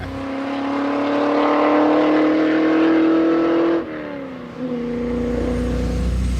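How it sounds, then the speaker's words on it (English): A Triumph TR3A sports car pulls out of the pit lane onto a race track, its engine droning loud and steady from inside the cabin, then dropping briefly as it shifts before pulling hard again. "I'm now inside Kevin's TR3A and we're coming out of the pit lane onto the track"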